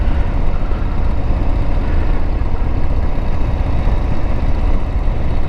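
A 2022 Harley-Davidson Low Rider S with its 117 engine runs with a loud, steady, rough drone, heard up close during a ride, with no talk over it.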